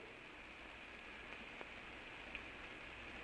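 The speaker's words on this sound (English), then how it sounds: "Rain beats in his face." Steady, faint rain hiss falls evenly throughout, with a few soft drop ticks and no voices.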